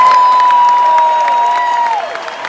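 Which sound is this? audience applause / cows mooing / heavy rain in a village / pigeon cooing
audience applause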